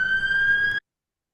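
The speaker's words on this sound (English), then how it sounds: "The sound of ambulance." An ambulance siren wails loud and close as a single steady tone with a slight rising edge, then cuts off abruptly partway through, leaving silence.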